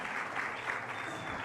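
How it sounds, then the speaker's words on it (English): Workshop audience giving a round of applause, a brief, even wash of clapping at moderate distance, fairly soft and unbroken. "Round of applause for Sfiso."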